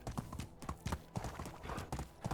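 Horse hooves clip-clop in a steady galloping rhythm in the medieval video game Medieval Dynasty, close and moderately loud, with no talking.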